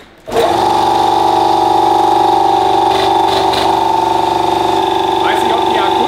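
A two-cylinder motorcycle engine with no air filter starts and settles into a steady, loud idle with a strong even drone, and a voice speaks briefly over it.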